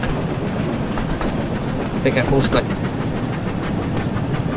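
A train runs with a continuous rumbling, rattling roll and a brief metallic squeal midway in the video game Thomas and Friends: Wonders of Sodor, while someone talks over it.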